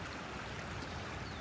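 A river flowing over and around many stones, giving a steady, even broadband rush of water that stays constant throughout with no breaks.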